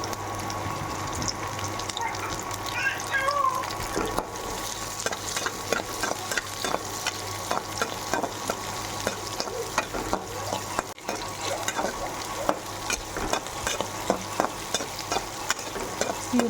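Green chillies and onions frying in a pan for green chilli egg bhurji, stirred with a spatula: a steady, close sizzle runs throughout, broken by frequent scraping strokes against the pan.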